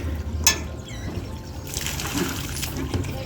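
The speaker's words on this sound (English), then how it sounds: "from there the water is flowing out" Water flowing out of filling containers at a lakeside water-play installation in Brienz, Switzerland, a steady splashing trickle throughout with outdoor background noise and faint voices.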